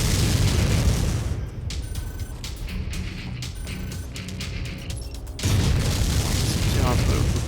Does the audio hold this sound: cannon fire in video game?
yes